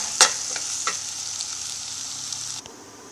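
Vegetables sautéing in a pan for bisibela bath give a steady, close sizzle that runs unbroken for a few seconds. A single sharp clink comes near the start and the sizzle drops away at the end.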